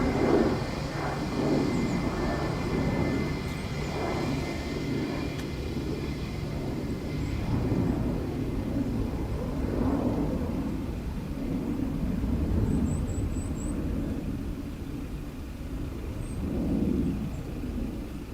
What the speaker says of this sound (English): Aer Lingus 320 Neo from Heathrow, following the British Airways from Heathrow.